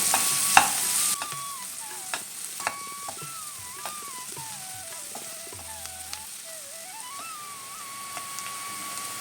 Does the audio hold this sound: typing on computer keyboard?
no